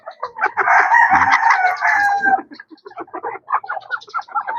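A Cochin hen, a breed kept for eggs, lets out a loud, close series of clucks and squawks. A long sustained call is followed by shorter broken calls that come in a quick rhythm.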